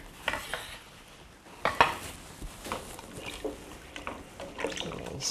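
A spoon stirs sweet corn and sweet potato soup in a cooking pot, giving soft scattered scrapes and occasional sharper knocks against the pot, fairly close and quiet, with no talk.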